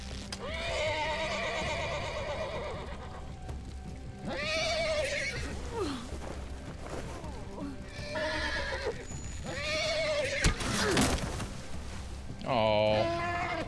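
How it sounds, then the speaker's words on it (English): A panicked horse in The Walking Dead video game neighs and whinnies repeatedly in loud, shrill bursts, with hoof clatter, scuffling and a sharp impact mixed in. "Welcome to the power of a panicked horse."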